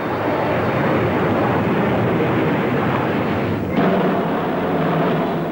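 Supermarine Swift jet fighters roar past at an RAF display in a broad, steady rushing wash of engine noise with a slight shift partway through, loud and without voices.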